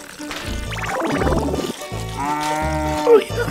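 Cow mooing in the VR game Cow Milking Simulator, a loud drawn-out low bellow that rises and falls twice, close up, with game sounds layered around it.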